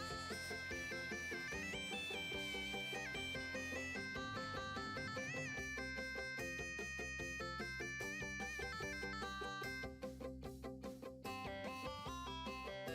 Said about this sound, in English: Oh no, it's his cell phone, but they just kept playing the same song and they just made it like this tone.